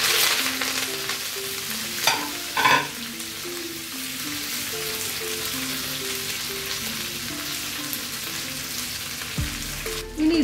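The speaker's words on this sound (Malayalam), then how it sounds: "ഇതിലേക്ക് നമ്മുടെ മുരിങ്ങ ഇല ചേർത്ത് കൊടുക്കാം." Rice and drumstick leaves fry in a pan for a Kerala thoran, a continuous soft sizzle with a few louder stirring scrapes, near and steady, with no talking.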